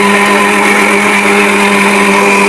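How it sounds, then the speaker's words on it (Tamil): A kitchen mixer grinder whirs loud and steady, grinding coconut chutney for vada, its high motor hum continuous and unbroken from start to finish with no talk over it. "அதை மிக்சியில் கிரைண்ட் கிரைண்ட் பண்ணி"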